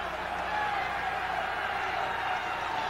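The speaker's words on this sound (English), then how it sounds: "Crowd cheering for the defense to stop them" Football stadium crowd at a Baltimore Colts versus Pittsburgh Steelers game, cheering for the defense: a steady, distant roar of many voices holding level throughout with no single shout standing out.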